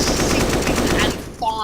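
Rapid rifle gunfire from the tactical shooter Counter-Strike during a professional match, a dense burst of loud close shots lasting over a second before cutting to quieter tones.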